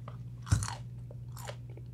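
A single crisp bite into half a Scotch bonnet pepper, a loud crunch followed by brief wet chewing, close up, then a second softer crunching chew about a second later, with no talking.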